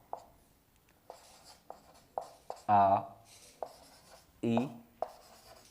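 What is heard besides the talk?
writing letters of the alphabet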